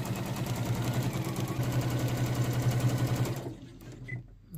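Sewing machine stitching fabric for a ruffle drawstring bag, including a few back stitches, a steady close motorized hum with rapid needle clatter that stops after about three and a half seconds, leaving quiet.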